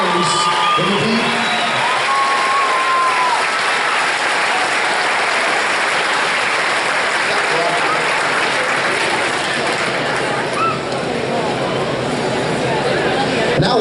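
A loud, sustained roar of crowd applause and cheering with scattered whoops for players at a lacrosse championship recognition ceremony, filling the hall continuously, with a brief announcer's voice at the very start.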